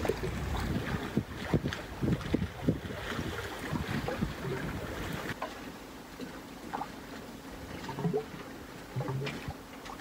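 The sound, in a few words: wind blowing while sailing a boat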